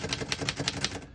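A 1930 Royal Portable P Model typewriter is typed on, giving a quick, even run of about six crisp key strikes that sound close and clear.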